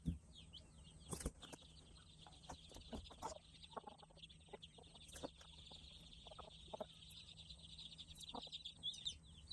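Baby chicks in a brooder give soft, scattered peeps and chirps throughout, with occasional clucks and a brief burst of wing flapping, fairly close but quiet, with no talking.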